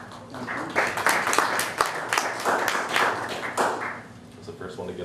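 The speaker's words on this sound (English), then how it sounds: "It's the first one to get a clap." People at a community meeting give a round of clapping, a scattered patter of hands that swells through the middle and fades, with voices talking underneath.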